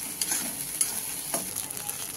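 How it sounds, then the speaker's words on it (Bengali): Nigella seed, garlic and dried chilli paste being stirred in hot oil, giving soft scraping strokes and a faint, steady sizzle at low volume with no voices. "আমি কালো জিরা, রসুন আর শুকনো লঙ্কা বাটাটা দিয়ে এবার নেড়ে যাবো"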